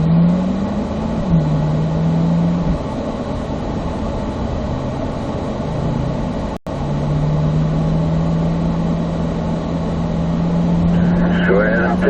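Corvette Z06 accelerating on a race track, a steady engine drone with pitch climbing and holding, a short dropout partway through, and a voice talking over it near the end.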